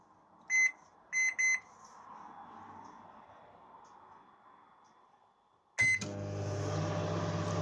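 A microwave oven with a plate-covered dish inside: three short beeps from the keypad, a quiet stretch, then another beep and the steady loud hum of the oven starting to run, with no voices.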